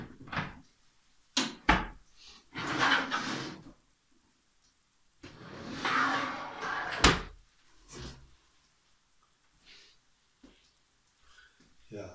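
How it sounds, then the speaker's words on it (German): Drawers of a welding cart's under-cabinet being pulled open and pushed shut, several sliding rumbles and sharp knocks at close range, with quiet gaps between them. "Schubladen."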